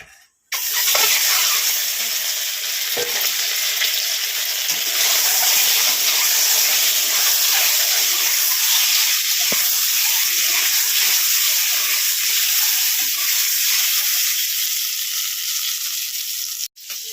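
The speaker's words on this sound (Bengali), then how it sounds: "তো চলো তেলে দিয়ে ডিমটা ভেজে ফেলি" Eggs frying in hot oil give a loud, close, continuous hiss and sizzle that holds steady for the whole stretch with a few small pops, and no one talks.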